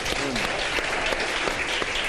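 Studio audience applause on a Pakistani morning show, a steady wash of many hands clapping at moderate level throughout, with faint voices underneath.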